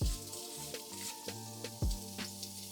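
Mixed vegetables sizzle in garlic and herb butter in a pan set just over medium heat, a close crackling fry broken by bright clatters of pieces dropping in and shifting, with no talk.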